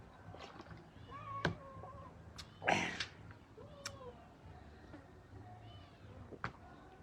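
Several cats meow at close range while being fed leftover food, with a handful of separate short mewing calls scattered over a quiet background and a louder cry near the middle.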